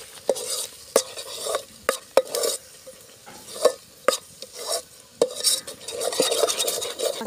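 Chicken masala sautéing in oil in a pan, with repeated sharp scrapes and clinks of a stirring spoon over a soft, steady sizzle, close and distinct.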